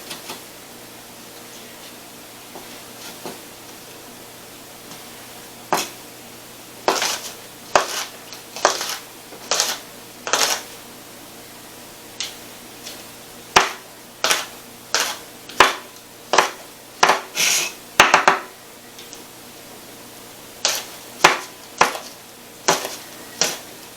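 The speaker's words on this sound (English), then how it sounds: "now we're just going to take and chop these up also the same way we did those" Harvested onions being chopped with a knife on a board, sharp distinct knocks coming in irregular bursts with pauses between, close and clear without talking.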